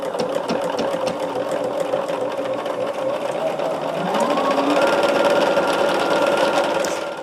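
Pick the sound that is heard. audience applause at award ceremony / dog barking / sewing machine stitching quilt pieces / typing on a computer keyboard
sewing machine stitching quilt pieces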